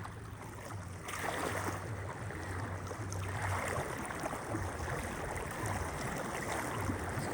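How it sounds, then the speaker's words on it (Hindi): Floodwater from the Taunsa flood rushes in a constant, dense roar of turbulent water, with a low steady drone underneath and no voices. "पानी नीचे जा रहा है ना, और तेज आ रहा है पानी"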